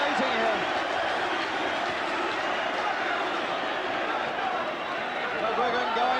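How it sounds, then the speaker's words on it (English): A boxing crowd roaring continuously during the McGuigan versus Pedroza fight, a dense, sustained wall of cheering from a large arena with a commentator talking over it. "I've never heard such excitement in my life as this crowd is creating here"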